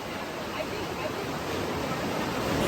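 Ocean surf at La Jolla, California, heard from a cliffside platform at the bottom of a long stairway: a steady, broad rushing wash of waves, moderately loud and continuous, with some wind across the microphone.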